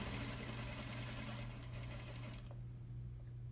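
A sewing machine stitches a seam along a half-inch guide, running with a steady, even whir and fine rhythmic chatter for a couple of seconds before the motor stops and leaves near silence.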